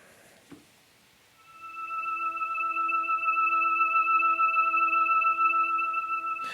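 A sustained drawbar organ chord swells in smoothly after a brief click, holding steady with bright layered tones for several seconds.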